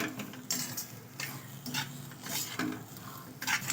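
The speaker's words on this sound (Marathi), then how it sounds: "तूप सुटस तोपर्यंत आपल्याला असं व्यवस्थित रवा छान परतवून घ्यायचा आहे तुपामध्ये।" Semolina roasting in ghee in a pan over a low flame is stirred with a spoon, giving repeated rhythmic scraping strokes over a soft background sizzle.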